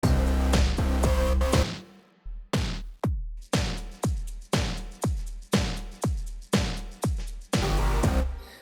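A stacked house-style drum pattern of high, dancey ripped snare, shakers and percussion over a kick plays back loudly. After a dense opening bar it settles into a steady, regular beat of sharp hits at about two per second.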